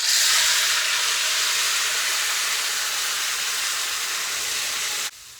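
Soaked lemons poured into a hot pan for traditional lemon pickle give a loud, steady sizzling hiss that holds for about five seconds, then drops off abruptly near the end, with no talking.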